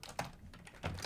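Typing on a computer keyboard while using the Vim editor, a few quick, faint key clicks close to the microphone.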